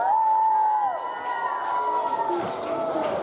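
Children at a summer camp creative party applaud and shout in a dense, lively burst, with high sustained voices and cheering over steady clapping.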